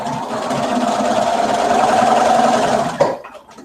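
A sewing machine stitches a T-shirt with a steady, fairly loud mechanical whir that runs for about three seconds, then stops abruptly, leaving a short, quiet tail.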